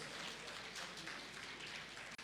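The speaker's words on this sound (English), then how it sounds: "The General Secretary deserves another round of applause." A crowd at a political manifesto launch in Ghana claps steadily, a dense, even wash of applause that runs the whole short stretch before a sudden cut.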